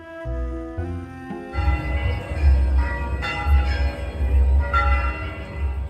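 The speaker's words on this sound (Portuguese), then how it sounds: "se soam os sinos da Igreja do Pelourinho, em Salvador" Church bells of the Igreja do Pelourinho in Salvador, Brazil, ring out with a sustained, resonant tone, followed by a rumbling, busy mix of deep ringing and clanging that continues throughout.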